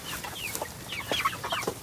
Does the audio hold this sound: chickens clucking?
yes